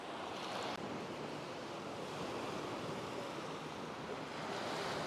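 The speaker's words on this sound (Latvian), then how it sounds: "Protams, visu laiku ir kaut kāds vilnis laušās un metās." Sea waves break and wash steadily on a shore during flounder fishing, making a continuous, loud, roaring surf with some wind rush and no voices.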